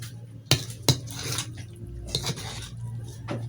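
A metal spoon scrapes and clinks against a wok while thick anchovy stew is scooped up, two sharp taps followed by softer scraping and wet stirring sounds, close by, with no talking.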